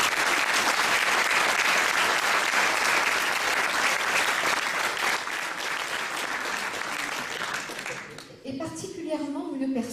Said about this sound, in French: Donc je vous demande de les applaudir très fort